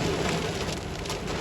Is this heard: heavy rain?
yes